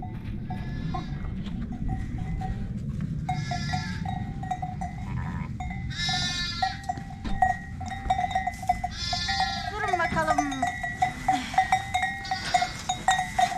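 Several sheep bleat repeatedly, overlapping calls rising over a steady rumbling background, fairly close, with no talking.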